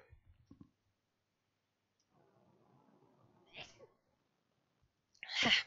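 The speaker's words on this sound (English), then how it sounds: "That was a sneeze." A sharp, bright sneeze bursts out loudly right at the end, after a quiet stretch with a few soft clicks, a low rumbling murmur and a smaller breathy burst midway.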